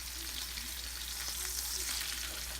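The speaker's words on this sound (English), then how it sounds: "we're just going to fry these babies up and have some good food" Organic sirloin steaks pan-searing in a frying pan, a constant dense hiss and crackle with scattered pops, close and steady throughout.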